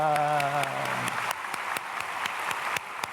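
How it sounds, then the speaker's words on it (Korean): Church congregation applauding the choir during a Sunday worship service, a steady, moderately distant wash of clapping with a few sharper individual claps, while a sustained musical tone fades out in the first second. "박수하겠습니다"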